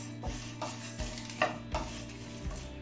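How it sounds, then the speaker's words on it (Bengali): Coriander, fennel and ajwain dry roasting in a pan on a low-medium flame for pickle masala, a quiet rhythmic scraping of spoon against pan every half second with a faint crackle, close and without talk. "এবার এই সমস্ত মশলা লো মিডিয়াম ফ্লেমে ড্রাই রোস্ট করে নেব।"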